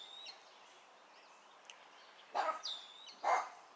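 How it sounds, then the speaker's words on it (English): A pet dog barks twice indoors, two sharp nearby yaps in quick succession standing out over a quiet room hush, with a faint chirp earlier. "That's my dog."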